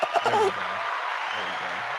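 An applause sound effect played from a soundboard on a live stream, with a short burst of clapping mixed with chuckling voices at the start, then a steady broadband wash under faint speech.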